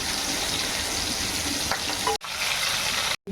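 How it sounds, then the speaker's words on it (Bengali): Cumin seeds, onion and potatoes fry in a pan with a steady, close sizzle and crackle, broken by two short dropouts near the end. "পেঁয়াজ দিয়ে এটা একটু ভেজে নিয়ে তার মধ্যে যে আলুগুলো দিয়ে দিয়েছি"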